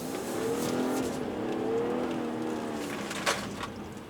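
A G30 BMW 540i xDrive makes a launch-control start on a night drive. The engine note climbs steadily as the car accelerates hard, heard faintly from inside the cabin with a brief thump near the end.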